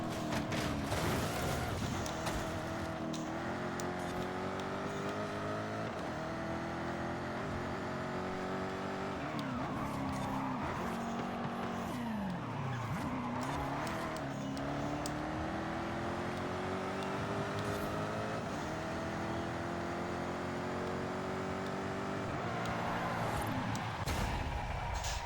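Jaguar F-Type R Coupe from 2015 racing in Forza Horizon 5 on a street tune, a continuous loud engine drone rising and falling with gear shifts and revs for the whole stretch, with brief tire skids.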